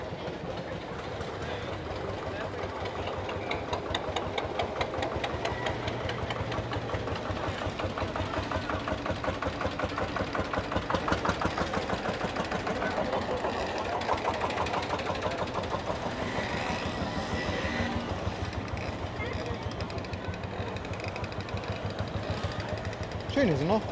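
Lanz Bulldog tractor engine running at a steam and diesel meet, with a continuous, rapid rhythmic chugging thump that carries on throughout while people talk nearby.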